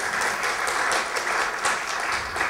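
A church congregation claps together in steady, dense applause that fills the room at an even level throughout, with no voices standing out.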